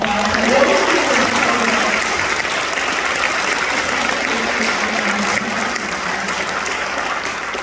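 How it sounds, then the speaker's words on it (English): Sustained audience applause fills a Rhode Island State House room at a Second Amendment bill signing ceremony, a steady dense clapping throughout with no talk over it. "Can we give her a round of applause?"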